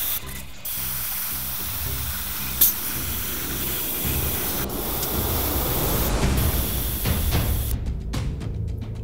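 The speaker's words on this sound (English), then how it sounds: "I'm going to paint all my red with just Tamiya flat red XF7, and I'm going to go ahead and start doing that here with an airbrush." Airbrush spraying Tamiya flat red XF7 paint onto parts of a 1/48 scale model kit, a steady close hiss of air running for several seconds with a couple of brief bursts and a sharp cutoff near the end.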